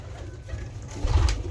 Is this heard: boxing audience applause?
no